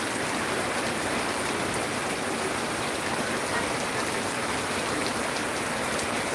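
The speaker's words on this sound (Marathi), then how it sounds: "आपल्याकडं पावसाला सुरुवात झाली आहे" Steady rain falls on an open field where brinjal is being picked, a dense, even hiss that continues alone at a constant level with no pauses.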